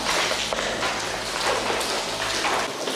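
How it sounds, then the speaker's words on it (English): Rain pours steadily through a damaged ceiling into a room of an abandoned building, a dense, continuous hiss and patter of water close by with no voices. "It's actually raining more in here than it is outside."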